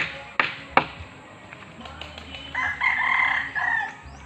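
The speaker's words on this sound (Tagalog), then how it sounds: "Ang daming manok." A rooster crows among a flock of chickens in a rural yard, the drawn-out crow rising near the end after a couple of sharp taps and faint clucking.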